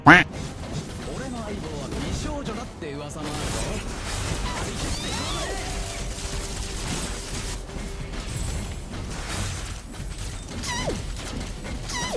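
Duck quacks sound repeatedly within busy game audio from the Mobile Legends mobile game, mixed with clashing effects, crashes and music throughout.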